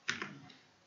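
A brief burst of typing on a computer keyboard while entering Java code, with a couple of quick close keystrokes followed by a fading tail.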